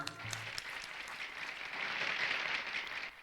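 An audience at a Hindi religious discourse on the Mahabharata applauds to welcome guests, a faint, distant, steady wash of clapping that swells briefly toward the end.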